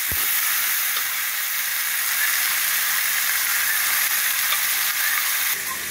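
Tomatoes frying in hot oil with tempering spices, a loud, constant sizzle and crackle that hisses evenly throughout, with a faint stir near the start and no voices.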